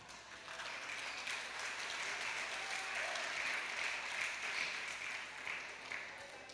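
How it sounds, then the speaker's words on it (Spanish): A church congregation applauding together, a steady wash of clapping held for several seconds, moderately distant and without speech over it. "Dele un aplauso al Señor."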